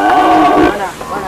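A cow called Zamindar, kept in a riverside cattle pen, gives one loud, close, drawn-out moo that holds for about a second and then fades.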